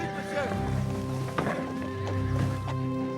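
Several horses whinny and neigh over steady clip-clopping hooves in a staged period scene with a carriage relay, loud and close, while someone shouts orders over them.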